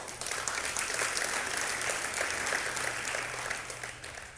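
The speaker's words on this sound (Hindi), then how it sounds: "भाई इनके लिए तालियां।" Studio audience breaks into steady applause, a dense even wash of clapping at moderate level lasting about four seconds with a faint low hum underneath, easing off slightly at the close.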